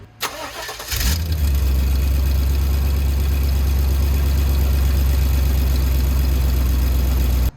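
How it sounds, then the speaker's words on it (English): Chevrolet Silverado engine cranks briefly, catches and then idles loud and steady up close, with the engine bay opened up after a manifold gasket replacement. "I think it's fair to give it a quick start before I put everything back in, just so if there is any kind of leaks, I can listen"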